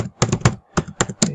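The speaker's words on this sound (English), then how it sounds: "So I will type" Quick bursts of typing on a computer keyboard while entering login details, about five clusters of close, crisp key taps separated by short pauses.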